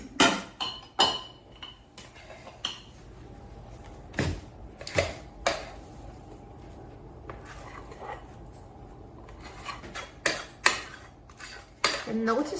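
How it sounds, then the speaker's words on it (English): Pumpkin dump cake batter is scraped into a greased baking dish, with irregular knocks and clinks of a utensil against the dish and bowl, close and fairly loud, with quiet pauses between. "so let me transfer it to a greased baking dish"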